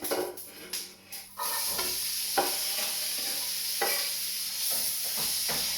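Onions and red and green peppers hit a pan of mince with a sudden loud sizzle, settling into a steady frying hiss broken by a few scraping stirs, no voices.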